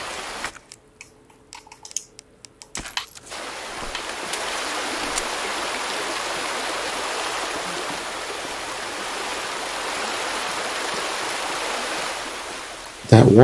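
Water flows in a stream in Resident Evil 2 Remake, a steady, fairly loud rushing wash that swells in after a few seconds of quiet clicks and footsteps and holds on without a break.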